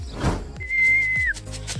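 A single sustained whistle tone rings out for under a second during a young pigeon flight training release, with dull low thumps around it.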